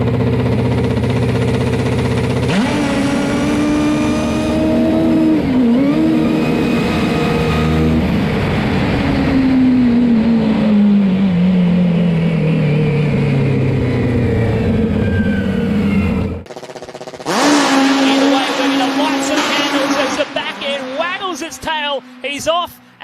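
A nitro top fuel drag motorcycle at an Australian championship round in Sydney blasts down the strip, its engine note sweeping in a long continuous run, with a loud announcer commentating over it and a second burst of engine roar near the end.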